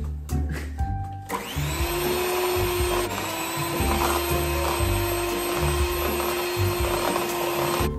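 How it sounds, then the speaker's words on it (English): An electric hand mixer whirs steadily through butter batter, a continuous close motor hum with a faint rattle after a few brief clicks at the start. "so we got the hand mixer and mixed that together for about like 20 minutes"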